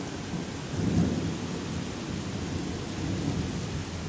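Heavy rain pours in a dense, continuous hiss, with a soft low rumble of thunder swelling briefly near the start and again faintly toward the end.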